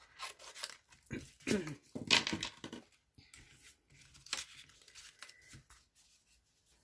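Scissors snip apart small pieces of colored cardstock, giving quiet, close, irregular clipping and rustling sounds in short bursts.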